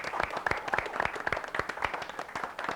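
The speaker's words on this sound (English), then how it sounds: "Big round of applause for St. Anthony." An audience at a 1992 school quiz final applauds the St. Anthony team, a brief burst of dense clapping that sounds moderately distant.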